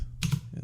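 Computer keyboard typing in a short burst of a few quick key presses, close and fairly quiet, with no talking over it.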